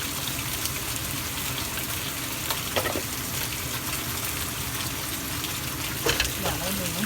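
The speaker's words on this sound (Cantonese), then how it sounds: "嗱，我哋咁煎一煎，" Small fish pan-frying in a little oil for soup, giving a constant near crackling sizzle with a couple of brief clattering bursts, and someone speaking quietly over it.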